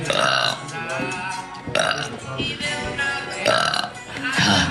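A long, loud, strained burp rumbles on for several seconds with a few swells and breaks, voiced and close, with no other sound behind it.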